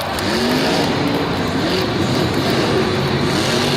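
A monster truck engine roars loud and continuous during a freestyle run at a Monster Jam arena show in Lyon, France, a dense rumbling drone with crowd-wide noise and no clear speech.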